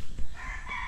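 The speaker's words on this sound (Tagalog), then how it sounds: "dito pa lang naririnig na lang natin yung mga tilaok ng manok" A rooster crows at a nature campsite in San Mateo, Rizal, one short, fairly close call rising over a soft outdoor background.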